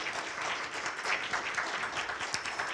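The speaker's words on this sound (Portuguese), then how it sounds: "Palmas para eles, por gentileza." Steady applause from an audience at a literary festival panel, a dense even patter of many hands clapping at moderate volume with no break.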